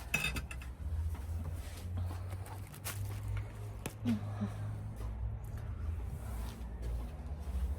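Dishes and cutlery clink softly in a few scattered chinks and scrapes over a low background hum.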